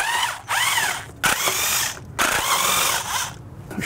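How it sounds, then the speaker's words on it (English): An impact or power tool runs in loud bursts to remove three 10 mm bolts from the Y-pipe of a bi-turbo Audi, whirring and ratcheting with short pauses between the bursts. "we have three 10 millimeter bolts that we're going to remove."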